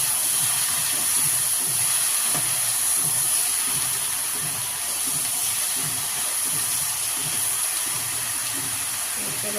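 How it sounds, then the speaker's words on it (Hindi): Steady hiss of spices sizzling in hot oil for tempering, continuous and fairly loud, with no voices. "तड़का लग गया इनको।"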